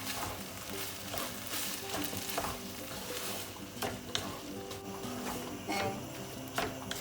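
Chicken and onion with sauce are stirred in a hot sizzling pan, with a spatula scraping in repeated close strokes over a soft, steady hiss.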